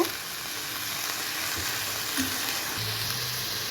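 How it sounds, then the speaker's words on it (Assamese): Green peas frying in a pan with coriander leaves, a continuous close sizzle under light scraping stirring strokes, with no voices. "ভালদৰে মিক্সিং কৰি দিব"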